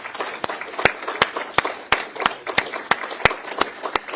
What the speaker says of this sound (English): We'll give you some applause.